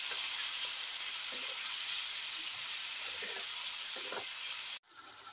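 Garlic and dried red chili spice paste sizzles steadily in a hot pan with a few stirring scrapes, then the frying cuts off abruptly near the end.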